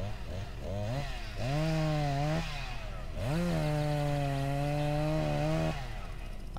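Chainsaw running in a forest in the video game My Summer Car, a loud continuous engine drone whose pitch sweeps up and down repeatedly as the throttle revs, with a brief lull midway before it rises again.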